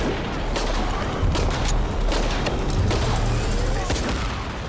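A dense, loud barrage of gunfire and explosions rumbles on in the PC video game Shadow of the Tomb Raider, with repeated sharp reports over a constant low roar.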